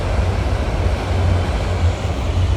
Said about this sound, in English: there's the train crossing behind my property